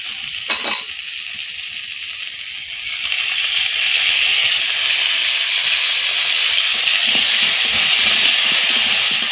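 Potatoes and fish frying in oil for a curry: a loud, steady sizzle and hiss of the pan, building after a brief clatter at the start and continuing unbroken close by.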